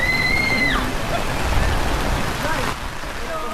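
Rain falls steadily during an outdoor charity giveaway, a constant wash of hiss beneath the sounds of a passing tricycle and shifting tones, with voices partly present.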